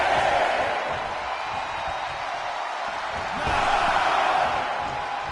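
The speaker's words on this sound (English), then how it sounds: "What a raucous crowd here tonight." A raucous arena crowd in the WWE 2K24 wrestling game roars as a continuous, loud wash of noise, swelling again partway through, with no clear voices standing out.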